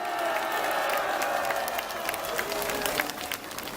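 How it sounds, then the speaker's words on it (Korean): A large crowd applauds at an outdoor Memorial Day political rally in Korea, steady clapping with some cheering and crowd murmur mixed in, a faint sustained tone running beneath, and the clapping thinning slightly toward the end. "애국의 피를 토하는 말씀 다시 한번 박수로 격려해 주시면 감사하겠습니다."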